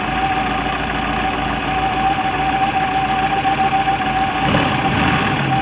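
A Four Winns boat engine idles in forward gear with a bent prop shaft, a steady close mechanical drone with a faint whine running throughout and a brief rougher surge near the end.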